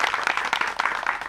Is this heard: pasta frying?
no